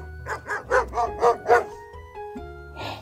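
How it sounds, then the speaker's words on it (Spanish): A recorded dog barks five times in a steady rhythm, loud and close, followed by a short yip-like call, with no talking over it. "Es el perro. Vamos a escuchar su sonido."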